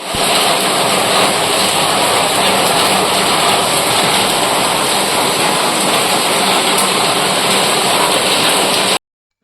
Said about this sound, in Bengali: হঠাৎ করে বৃষ্টি শুরু হয়েছে, তারাও তোমাদেরকে দেখাচ্ছি, খুব জোর বৃষ্টি হচ্ছে